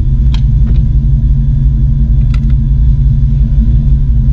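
A car engine runs on the first ride after a repair, a loud steady low rumble with a couple of brief higher clicks or squeaks over it and no talk.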